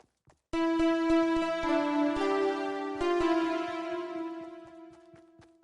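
Fortnite music blocks playing the melody of a song in the game: a few bright, bell-like synth notes ring out in sequence and sustain, clear and alone, fading out at the end.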